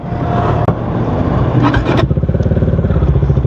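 Bajaj Dominar 400 UG motorcycle with an SC Project exhaust, idling loud and close after a brief rev, settling into a steady, rapid, chugging exhaust pulse.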